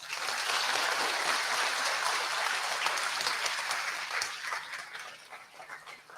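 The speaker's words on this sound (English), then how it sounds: "Everyone, let's give them a round of applause." Sustained audience applause at a high school commencement ceremony honoring standing parents and guardians, dense clapping at steady volume that gradually thins and fades toward the end.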